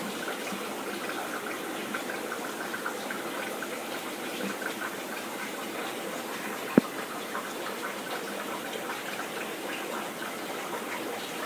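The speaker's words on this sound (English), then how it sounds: "This is water's flowing through all the time" Steady water trickles and gushes through a brine shrimp and zebra fish tank, a constant low wash of flowing water heard alone with one brief click partway through.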